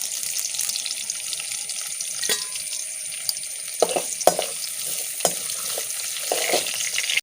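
Urad dal, dried chilli and curry leaves fry in hot oil, a steady crackling sizzle marked by sharp pops and a few clinks from stirring in the pan.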